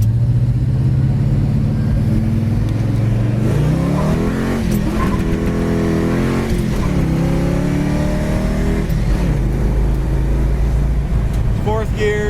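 A red 1968 Pontiac GTO convertible's engine drones loud and close, its pitch climbing and dropping as it revs through the gears on a highway, with someone talking over it.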